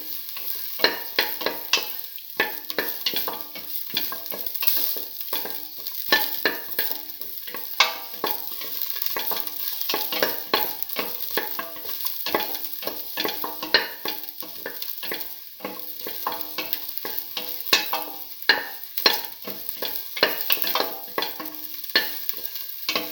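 Shallots frying in a pan for a red lentil and bottle gourd stew, a steady crackling sizzle stirred throughout with scraping clicks, close and fairly loud, no talking.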